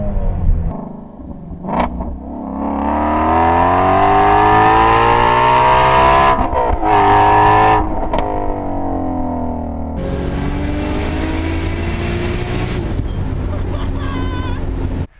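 A Mustang GT350 engine roars close by, revving up in pitch as it accelerates hard, with wind buffeting the microphone throughout.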